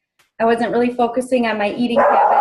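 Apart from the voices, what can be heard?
dog barking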